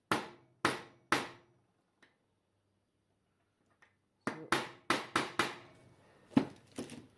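A small hammer taps on a brass bushing in a Junghans Plato clock movement during repair, giving sharp metallic knocks: three spaced blows, a pause, then a quicker run of five or six taps, close and clear.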